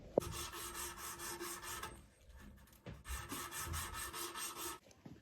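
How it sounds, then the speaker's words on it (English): Sandpaper rubbing back and forth on a copper plumbing pipe during a shower repair, a close, quiet rasping in steady strokes with a short pause midway and no speech. "It's a lot easier to sand it now than if you sand it whenever it's a short pipe."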